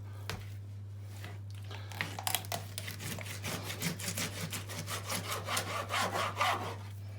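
A kitchen knife cuts through a raw chicken knuckle joint, giving close, rhythmic rasping strokes like small sawing that grow firmer and quicker toward the end, with no talking.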